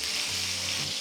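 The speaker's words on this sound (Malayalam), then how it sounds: "ജസ്റ്റ് ഒരു ബ്രൗണിങ് കിട്ടാനായിട്ട് 2 സൈഡും തിരിച്ച് മറിച്ചിട്ട് ഫ്രൈ ചെയ്തെടുക്കുക." Chicken pieces fry in a pan over a low flame for browning, producing a strong, even sizzle that is close and constant throughout.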